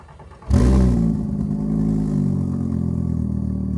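A swapped 5-cylinder 07K engine in a Mk2 VW Golf cold-starts with an abrupt crank and catch, then settles into a loud, steady, slightly uneven high idle close by.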